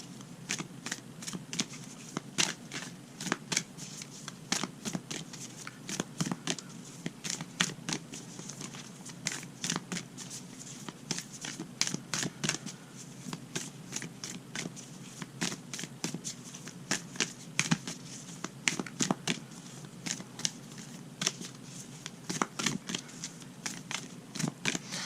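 Oracle cards from a Moonology deck are shuffled and drawn, giving a long run of quick papery riffles and flicks, steady and close, with no talk over them.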